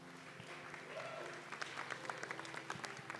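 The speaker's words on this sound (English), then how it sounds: "Big applause for him" Applause from an audience at a live pitch event while the founder plays piano, a steady wash of clapping with some louder individual claps standing out over faint background voices.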